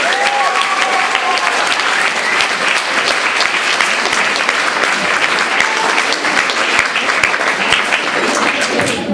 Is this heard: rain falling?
no